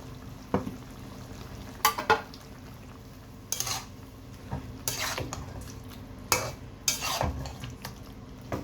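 Tomato puree is added to frying chicken with carrot and capsicum in a pan, followed by repeated spatula scrapes and knocks over a soft sizzle, with no voices.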